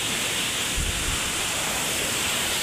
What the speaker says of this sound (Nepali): यो चाहिँ धिप्लुङ झरना।